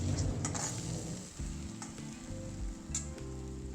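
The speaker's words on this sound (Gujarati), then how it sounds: "તો હવે આપણે ટમેટાની ગ્રેવી એડ કરી દઈશું। સારી રીતે મિક્સ કરી લઈશું।" Tomato gravy is stirred into golden onion gravy in a pan for a Gujarati gunda shaak, with a loud, close sizzle broken by scraping stirs and clatters, and no one speaking.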